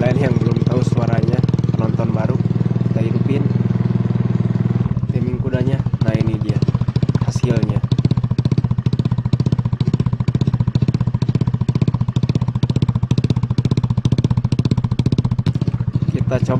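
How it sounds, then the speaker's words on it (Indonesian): Honda Beat scooter running a racing exhaust and a timing module, a loud, close engine that starts as a deep, steady idle and then shifts to a rough, rapid popping beat, with someone talking over it at the start. "Sekarang kita coba dulu terakhiran nih di knalpot racing buat kalian yang belum tahu suaranya."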